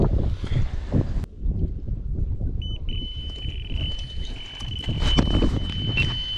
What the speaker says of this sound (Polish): Wiatr daje popalić.